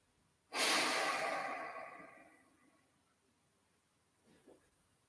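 Deep breath during a rest pose in a yoga class, with the arms lying beside the body: a single loud, airy exhale that fades slowly over a couple of seconds, followed by a faint, soft intake near the end.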